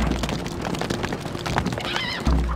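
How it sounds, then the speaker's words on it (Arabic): Galloping hooves and a horse's neigh from the medieval strategy game Stronghold Crusader, a quick clip-clop rhythm with a rising whinny near the end, loud and clear with no talk. "الحصان سريع."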